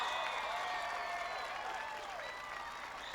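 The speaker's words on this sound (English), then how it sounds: "Let's give him a big round of applause for that courage" A crowd at a 1996 political rally in Michigan City, Indiana applauds in a distant, diffuse wash that slowly tapers off, with faint voices and whistle-like tones mixed through the clapping.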